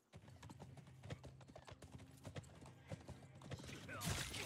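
Horse hooves clip-clopping in the video game Blood of Steel, a busy run of close, rapid hoofbeats that continues throughout, with a burst of louder noise swelling at the very end.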